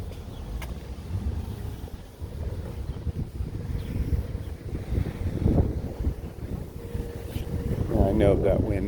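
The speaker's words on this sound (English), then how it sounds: "It's definitely getting windy." Steady low wind rumble in exposed coastal Morro Bay, California, buffets the microphone throughout, with a person talking over it and gusts swelling louder near the end.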